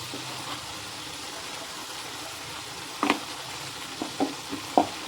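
Dried fish curry with turmeric and salt being stirred in a pan, a soft steady sizzle with a few sharp spoon clinks against the pan near the end.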